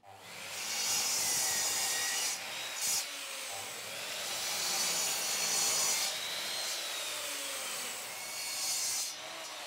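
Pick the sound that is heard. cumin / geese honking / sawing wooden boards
sawing wooden boards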